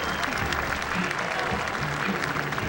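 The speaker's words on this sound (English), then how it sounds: "Crowd giving him a nice round of applause" Football stadium crowd at an Ohio vs. Miami (OH) college game applauding as an injured player gets back on his feet, a steady wash of clapping and crowd noise throughout with a commentator's voice over it.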